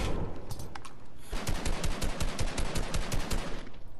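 Rapid automatic gunfire in a video game rattles in a dense, fast rhythm of loud, close shots, a looser burst first and then a tighter stream of steady fire lasting a few seconds.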